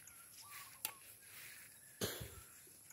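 Two short, separate coughs from one person, soft and a little distant in a quiet room, with a long pause between them and no talking.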